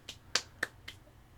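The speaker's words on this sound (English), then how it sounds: "I can hear myself clap" Four sharp, dry hand claps spaced roughly evenly over a second, close and fairly quiet with a faint doubled, echoey quality.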